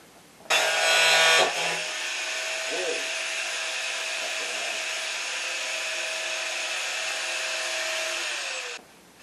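A power tool whines continuously while cutting rusted metal from an Early Bronco tailgate, loud and steady for about eight seconds with a brief higher burst at the start, then stopping abruptly.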